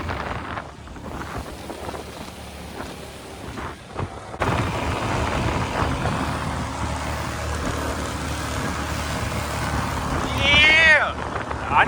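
A skiff's outboard engine drones while the boat runs across open water, wind buffeting the microphone, with the motor rising louder partway through and voices talking over it.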